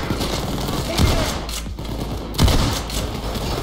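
Gunfire in Payday 2 crackles steadily, with two heavier shots standing out over a dense, continuous barrage.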